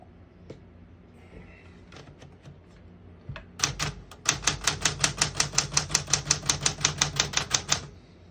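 A 1968 Smith-Corona Super Sterling portable typewriter clacks close by, a few scattered keystrokes giving way to a fast, even run of about twenty sharp strikes, with no one talking.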